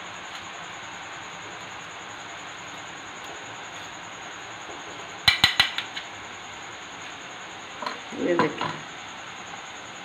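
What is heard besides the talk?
boondi batter frying in oil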